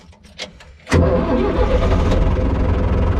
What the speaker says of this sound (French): on active coupe batterie et on démarre le 700